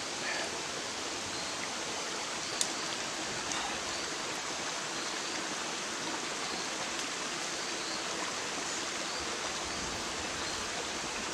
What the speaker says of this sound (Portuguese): E uma chuva muito forte.